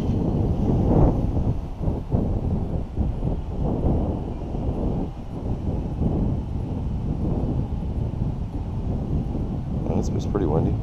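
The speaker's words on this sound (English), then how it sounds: "And it's pretty windy." Strong wind of about 15 miles per hour buffets the microphone in heavy, gusting rumbles throughout, with no voices.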